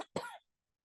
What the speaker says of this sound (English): Here comes my cough,